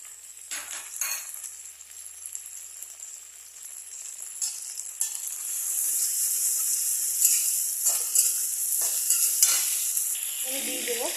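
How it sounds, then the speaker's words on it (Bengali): Potatoes, chopped onion and ginger-garlic paste sizzle and hiss steadily in a hot pan, with occasional stirring scrapes, the frying growing louder and denser toward the end. "আমি আলুগুলো ছেড়ে দেবো, তাহলে একসাথে ভাজা হয়ে যাবে।"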